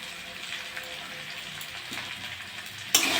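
Small fish and taro being sautéed with coriander powder and salt in a pan, an even, moderate sizzle with faint crackles, rising to a sharper burst at the end.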